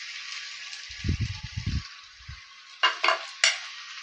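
Raw papaya and potato curry with ghee is stirred in a pan, a quiet steady sizzle with soft low knocks, then three short scraping strokes of a spoon near the end.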